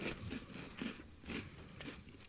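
Crunchy malted milk biscuit being bitten and chewed up close, a steady series of sharp crisp crunches about every half second, loud and dry with no talk over them.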